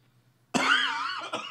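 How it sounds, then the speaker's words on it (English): A single harsh, drawn-out cough from a person with a bad cold, close to the microphone after a moment of quiet, trailing off with a short rasp. "if you hear me coughing or hacking or whatever, it's because I have a bad cold"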